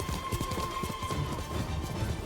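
Horse galloping in the video game Ghost of Tsushima, a rapid rhythmic clatter of hooves over a steady background wash with a faint tone running through it.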